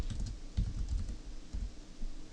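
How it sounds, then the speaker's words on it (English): Keys on a computer keyboard are tapped in quick, uneven bursts for a couple of seconds, close and fairly soft, with no voices. "I'm just going to type it in here."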